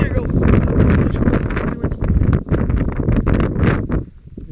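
Strong wind buffets the microphone in a steady roar while fishing on a river in mid-September autumn, with gusts rising and falling throughout, close and loud.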